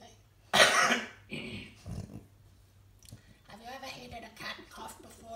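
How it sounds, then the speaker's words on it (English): A cat coughs once, a sharp harsh burst close to the microphone, followed by softer throaty sounds and then a person talking. "Did a cat cough before"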